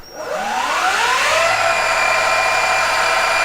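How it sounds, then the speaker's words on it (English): An electric Sur-Ron motorbike motor on a Chi 66V battery spins up to full throttle, its whine rising quickly then holding a loud, steady high-pitched drone close by. "And this is full throttle on the Chai battery."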